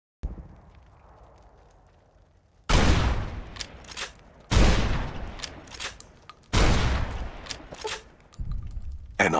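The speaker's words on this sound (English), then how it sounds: "begin hitting him with as much explosive ammo as I could" Heavy explosive-ammo gunfire from a boss fight in the Fallout: New Vegas video game: three loud, booming bursts a couple of seconds apart, each with a crackling tail and rumble, after a quiet opening.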